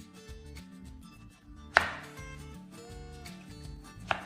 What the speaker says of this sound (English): So I'll set this aside and start cutting the onions.